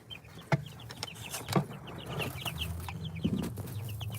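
Soft clucking and peeping from chickens nearby, with a few sharp knocks and thumps scattered through.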